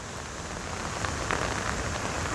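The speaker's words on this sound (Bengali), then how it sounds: "এখন আবার গুড়ি গুড়ি বৃষ্টি সেই সাথে দমকা জোর হওয়া বইতেছে" Light drizzle falls steadily after cyclone Remal in a flooded coastal area, a dense hiss of rain on surfaces with gusty wind swelling slightly partway through.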